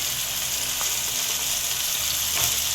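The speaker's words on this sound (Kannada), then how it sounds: "ಬೀನ್ಸ್ ಹಾಕ್ತಾಯಿದ್ದೀನಿ ಎಲ್ಲ ಎಣ್ಣೆಲ್ಲ ಹುರ್ಕೋಬೇಕು" Beans and mixed vegetables fry in hot oil for bisibele bath, a loud, steady sizzle that never lets up. Occasional stirring clatters through it and there is no talk.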